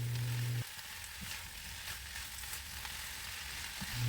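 Pancit canton seasoning mixture sautés in a pan, a faint, even sizzling hiss running throughout with light stirring touches and a steady low hum beneath, no voices.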